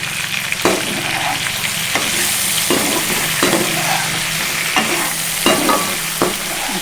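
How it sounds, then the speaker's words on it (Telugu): Stuffed brinjal curry frying in a pan, an even sizzle under repeated stirring scrapes of a spatula at a regular rhythm, with no talk. "మూత తీసి కలుపుకోవాలండి"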